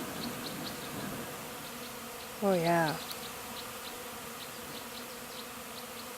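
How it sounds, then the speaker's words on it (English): A large swarm of honey bees covering the opening of a top bar hive gives a steady, faint buzzing hum throughout, with someone briefly speaking over it. "That's just coated in bees."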